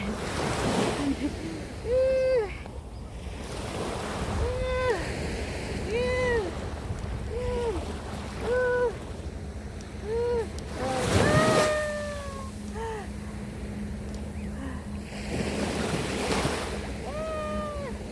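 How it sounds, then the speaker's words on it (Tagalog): Sea waves wash steadily onto an east coast shore in a continuous broadband surf hiss, with recurring short tonal calls riding on top and a louder rush of water around the middle. "naririnig nyo ba ang tubig? Tubig dagat."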